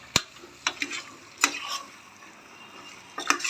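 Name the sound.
stirring mutton in a pan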